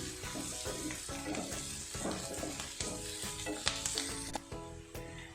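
Onions frying in a pan for an egg curry with coconut milk, a steady close sizzle with regular scraping stirs and occasional utensil clinks, no voices.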